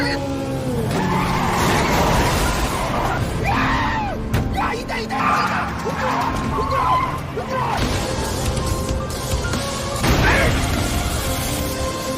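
Film car chase through city streets, with tires skidding and squealing over roaring engines, sharp impact-like hits and shouting voices, all loud and continuous throughout.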